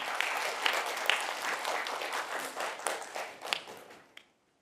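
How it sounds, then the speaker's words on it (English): An audience at a grade-four school speaking contest final applauds a young contestant, a lively burst of many hands clapping that gradually thins and fades out to silence near the end. "So give him a round of applause"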